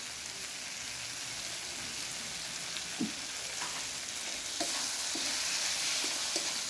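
Tomato, green chilli and spice masala with Kashmiri chilli and a little sugar fry in a pan for a Bengali raw jackfruit and prawn dish: a steady, close hiss of sizzling oil with occasional spatula scrapes and taps, no talking.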